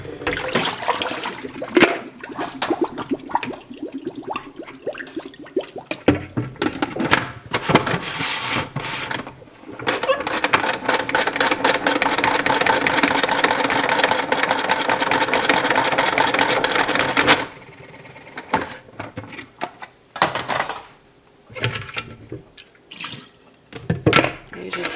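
A salad spinner whirs steadily while drying freshly washed herbs for homemade pesto. The loud, continuous rushing spin lasts several seconds between clattering handling noises, and a voice speaks briefly in the quieter moments.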